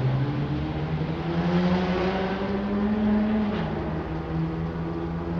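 A car engine drones steadily outside as it is driven in circles, a continuous loud hum with small shifts in pitch and no voices.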